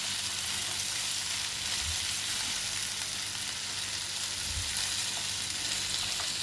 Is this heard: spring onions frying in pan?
yes